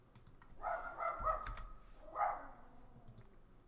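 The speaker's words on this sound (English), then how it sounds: "Loud dogs being loud." Dogs barking indoors, a couple of short muffled bursts of barks in the background with quiet clicking nearby.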